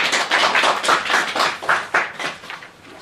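Applause from an audience at a cooperative business meeting, a dense, steady patter of many hands clapping close by that fades slightly toward the end.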